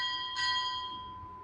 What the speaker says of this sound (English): Time orderly, strike 2 bells.